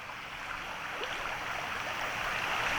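Water of Frog Creek flowing at night, a steady, moderately faint rushing and trickling that holds even and continuous, heard alone without voices.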